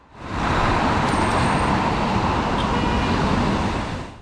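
Dense evening traffic in central Istanbul around an IETT city bus stopped amid the jam, a loud steady wash of engines and road noise that swells in and holds.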